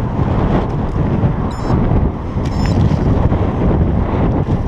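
Strong gusts roar and buffet the microphone during a night ride on a Cannondale F4000sl mountain bike, a dense, loud rumble that surges and eases without a break.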